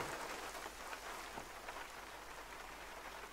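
Steady, fairly faint rainfall in the hunting video game theHunter: Call of the Wild, a dense even patter with no other sounds.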